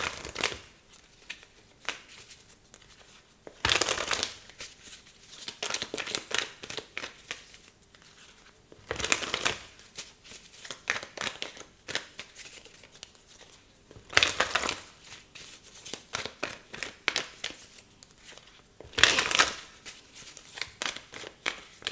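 Tarot card deck being shuffled by hand, with repeated crisp riffling bursts every few seconds and softer rustling and card handling in between, close and quiet, without talk.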